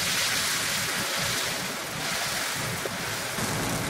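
Ground mustard paste fries in a pan for olive pickle, giving a steady, dense sizzling hiss that stays close and even throughout.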